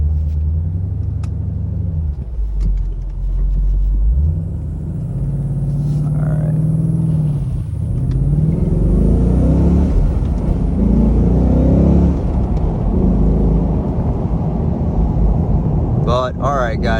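A 2016 Mustang GT Premium with a 6-speed manual rumbles and revs as it drives, the pitch rising and falling through gear changes, close and continuous.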